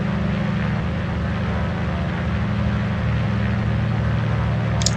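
Twin radial engines of a Grumman JRF-6B Goose amphibian at takeoff power in Microsoft Flight Simulator, a loud, steady, throbbing propeller drone that holds constant throughout.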